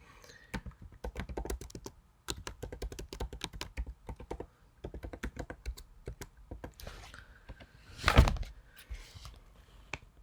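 Someone types steadily on a computer keyboard at a desk, with brisk bursts of close key clicks separated by short pauses and one heavier thump near the end.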